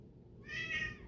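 A single soft, drawn-out cat meow sounds nearby in a quiet room, faint but clear over a low background hum.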